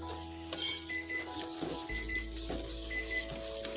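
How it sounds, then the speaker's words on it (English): Vegan Krusteaz Belgian waffle batter made with sparkling water is whisked in a bowl, giving a steady run of soft clinks and stirring scrapes over about four seconds, with no talking. "go ahead and whisk that up. We're going to get nice batter going here."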